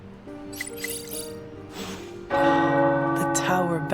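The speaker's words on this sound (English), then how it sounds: "The tower bells are ringing." Tower bells ring in Marvel Midnight Suns, a bright clanging peal that swells loudly after a quieter stretch of ambient tones and continues to the end, with no talking.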